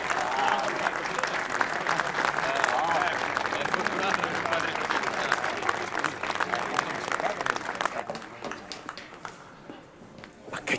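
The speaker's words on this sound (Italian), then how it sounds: "Un applauso." A studio audience claps loudly in dense, steady applause with some voices mixed in, then it thins and fades toward the end.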